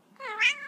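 A cat gives a single short meow that rises and falls in pitch, close and clear, with no voices.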